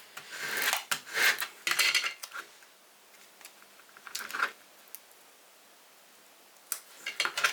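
A label being scraped off a glass wedding favour jar, with close, gritty rasping strokes in uneven bursts separated by brief pauses.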